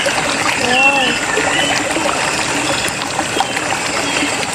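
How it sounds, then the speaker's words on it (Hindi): Cold water splashes and trickles as someone bathes, lively close splatters running throughout, with a voice speaking over them. "अरे मैं जल्दी से नहा लेती हूँ। अरे कितना मजा आ रहा है ठंडे ठंडे पानी में।"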